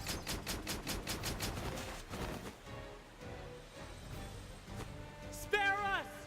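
Soldiers firing guns in the role-playing game Octopath Traveler, a rapid rattling volley at the start that fades into quieter scattered shots, followed by a voice crying out near the end.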